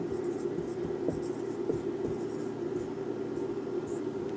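Someone writes out the solution to a trigonometry maths problem, with faint, repeated pen strokes over a steady low electrical hum throughout.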